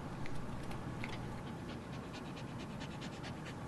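A small dog pants steadily and rapidly close by, a soft continuous breathy rhythm with no other sounds over it.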